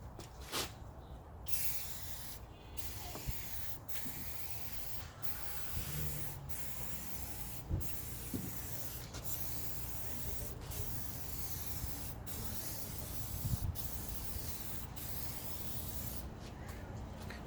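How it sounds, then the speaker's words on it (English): Aerosol can of Scotchgard fabric protector sprayed onto an engine bay hood liner in long, even passes, a steady close hiss broken by brief pauses between strokes, with no talking. "getting a good quality protector, anything like that, Scotch Guard, and just spraying nice uniform even motions"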